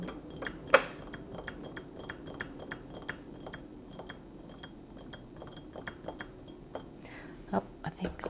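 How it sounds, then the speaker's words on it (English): Repeated light clinks of fingertips and nails tapping on glass, crisp and close, in irregular bursts with a few sharper taps standing out against quiet background. "glass tapping."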